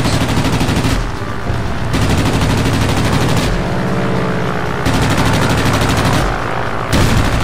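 Warplane guns firing in World of Warplanes: long loud bursts of rapid machine-gun fire broken by short pauses, heard over steady engine drone.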